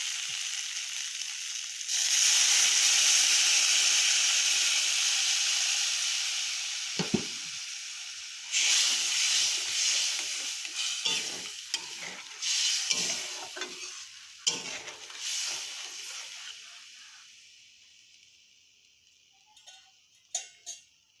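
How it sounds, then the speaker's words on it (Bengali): Water poured onto fried spice paste for a homestyle pointed gourd and prawn curry sets off a loud, hissing sizzle that slowly fades, followed by intermittent stirring scrapes and bursts of spluttering in the pan. "এবার এটা আমরা জল দিয়ে দেবো।"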